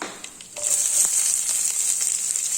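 Onion frying in hot oil with mustard seeds and chana dal, a steady close sizzle that swells after a short quieter start, with a few faint clicks and taps from the pan.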